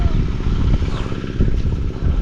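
An irrigation pump engine runs steadily out in a field, giving off a loud, continuous low chugging drone with no break.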